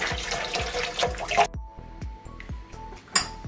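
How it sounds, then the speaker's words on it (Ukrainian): Warm tap water gushes steadily through sausage casings, then cuts off, leaving scattered drips and small splashes before a brief burst of water returns near the end. "Включаємо воду і дивимося, чи нема дирок."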